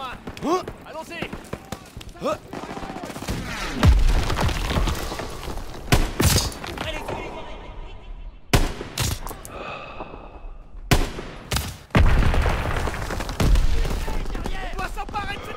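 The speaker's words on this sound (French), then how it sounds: "Des coups de feu" Gunfire from rifles and machine guns in the World War II shooter Call of Duty WW2, loud bursts and sharp single shots with booming impacts, mixed with game voices and music.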